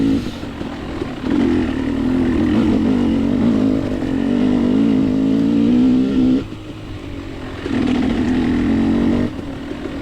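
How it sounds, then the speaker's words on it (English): A dirt bike on a mountainous hare scramble course, its engine close and loud, revving in long sustained pulls with brief throttle drops between them. "I remember how to ride a dirt bike."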